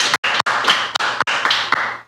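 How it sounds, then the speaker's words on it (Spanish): A few people clap briefly with quick, uneven claps, close and crisp, broken by short gaps of silence. "Aplausos, por favor, aplausos."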